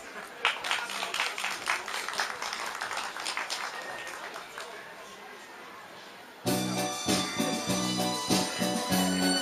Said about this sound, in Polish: Brawa prosimy.